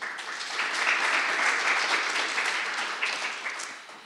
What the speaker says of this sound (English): we need to give the people who produced this another round of applause